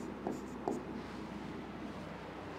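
Chalk or marker writing on a board during a Class 12 biology lesson on a monohybrid cross, with a couple of brief faint scratchy strokes over a quiet, steady room hum.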